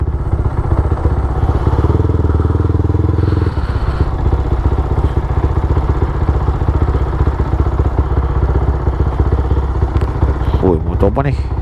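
A new Honda CBR motorcycle engine idles and revs nearby in a steady, throbbing rumble, with a short louder burst early on and people talking over it.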